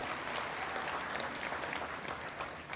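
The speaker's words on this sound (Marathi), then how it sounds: "सर्वांनी टाळ्या वाजवून जयंत पाटील साहेबांचं अभिनंदन करावं" An audience at a political supporters' rally in Shindkheda, Dhule claps in steady, dense applause that holds evenly for the whole stretch, heard from within the crowd.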